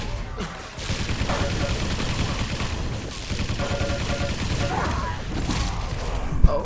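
Rapid gunfire from weapons in a Quake Live team deathmatch, dense overlapping shots and impacts crackling continuously and loudly with no pause.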